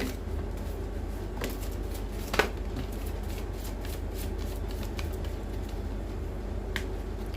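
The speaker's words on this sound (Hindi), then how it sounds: "सिंगल शफल लेंगे प्रभु।" Tarot cards are shuffled by hand in one continuous soft riffling flutter, close and steady, with a single sharper snap of the deck partway through and no talking.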